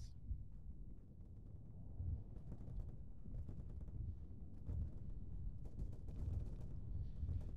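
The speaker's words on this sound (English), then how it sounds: "I'm taking fire to the southeast." Gunfire and explosions rumble in a military video game, dense low booms and crackling shots rolling continuously at a distance, muffled and faint, with sharper bursts scattered throughout.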